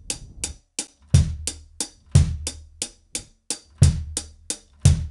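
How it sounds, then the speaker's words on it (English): A drum kit plays a steady beat of eighth notes on the hi-hat with bass drum kicks on certain beats, crisp and close with regular sharp hits and no talking. "playing the eighth notes with the right hand on the hi-hat. Keep that the same, and let's try it with the bass drum"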